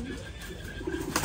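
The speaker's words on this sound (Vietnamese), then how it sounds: "Thì đây là con chim bồ câu mái nhá." A female pigeon coos softly in a brief, close, quiet call, with low murmuring tones and a slightly louder burst near the end, while handling noise sits underneath.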